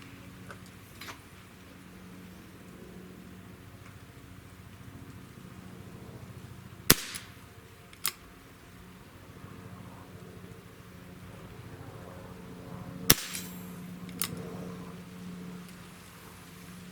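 A Smith & Wesson 586/686 revolver fires at a target outdoors, four sharp, loud shots spaced several seconds apart over a faint steady background hum.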